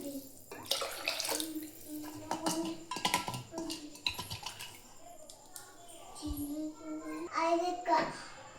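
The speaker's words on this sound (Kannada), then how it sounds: "ಈಗ 1 ಬೌಲ್ ಬ್ಯಾಳಿಗೆ ನಾನು 2 ಬೌಲ್ ಅಷ್ಟು ನೀರು ಹಾಕೊಳತ್ತೇನೆ ರೀ." Water splashes and runs in a short pour into a pot of masoor lentils, close up, while a person talks throughout.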